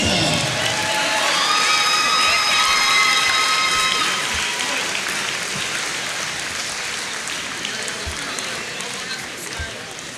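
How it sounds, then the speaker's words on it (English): Crowd applause and cheering for a college baseball team at a university sports event, loud and sustained with whoops, children's shouts and a whistle early on, gradually easing over ten seconds. "Let's give a big round of applause for baseball"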